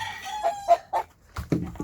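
Ornamental show chickens and a rooster: a short run of sharp clucks rising into a brief crowing call, then a couple of lower throaty clucks, close and alone.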